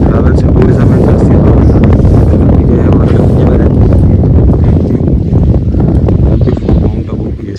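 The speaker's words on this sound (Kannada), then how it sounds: "ಎಷ್ಟು ಗಾಳಿ ಹೆಂಗಿದೆ ಗೊತ್ತಾ, ಫುಲ್ಲು ಚಳಿನೇ ಚಳಿ." Strong cold wind buffets the microphone on Mount Abu, a loud continuous low roar that stays heavy throughout and eases slightly near the end, with a voice speaking underneath.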